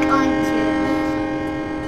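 A freight train in the Train Simulator 2013 video game gives a sustained, tonal horn-like drone over a rumbling engine. It stays loud and steady throughout, with a faint voice in the background.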